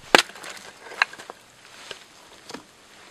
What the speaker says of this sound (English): we're gonna baton some fat wood with this Genesis